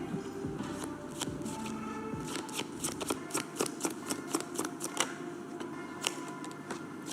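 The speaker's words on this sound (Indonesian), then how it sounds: "Banyak nggak bisa ngocok ya?" Tarot cards are shuffled by hand in a continuous run of quick, crisp riffling clicks and flutters, close and fairly loud, with no talk over them.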